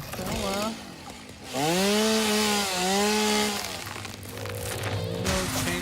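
A chainsaw in the video game Satisfactory revs loudly in rising and falling whines, running steadily for several seconds before dropping back to a lower idle, with a voice talking briefly at the start.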